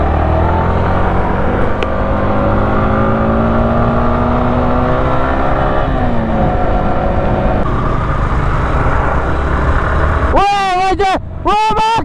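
Vehicles drive along a road in Darjeeling, engines droning and shifting pitch close by under continuous wind rush, with a few sharp horn blasts toward the end.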